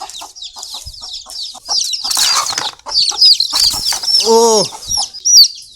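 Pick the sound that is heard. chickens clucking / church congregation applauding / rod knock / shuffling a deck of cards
chickens clucking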